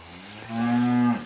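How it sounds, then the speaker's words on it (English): A single cow lets out one loud, close moo that swells and then fades, a steady low drawn-out bellow on its own. "I heard a cow."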